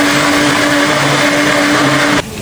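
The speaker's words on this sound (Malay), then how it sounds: "kita nak blend bawang putih, halia, bawang besar, serai dan lengkuas" An electric blender whirs loudly and steadily as it grinds garlic, ginger, onion, lemongrass and galangal, then cuts off sharply near the end.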